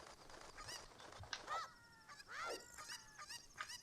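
Cucco chicken in Ocarina of Time Randomizer, a few sharp squawking clucks and honk-like cries in short bursts, moderately close and faint overall, with no talking.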